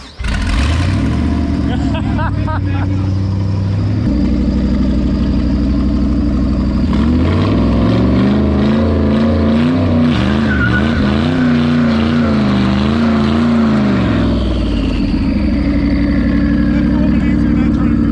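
A car doing a burnout at a gender-reveal event roars close by as its engine revs, the pitch climbing and wavering over a long, loud stretch. People talk and shout over it.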